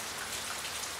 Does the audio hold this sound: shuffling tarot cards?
no